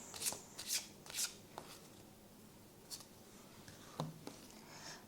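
Tarot cards are shuffled and pulled by hand, soft riffling swishes and papery flicks coming in short clusters, quiet and close with gaps between.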